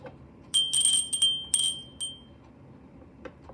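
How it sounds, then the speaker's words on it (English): A small butterfly bell rung indoors during a pagan ritual with candle and incense: several bright, high metallic rings in quick succession, then a lone fading strike, with no talk. "That's my butterfly bell."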